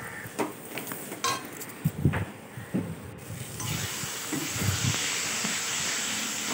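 Spices with turmeric and salt fry in a pot for mutton curry, giving a steady close sizzle and hiss that builds and holds, with a few clinks of a utensil against the pot.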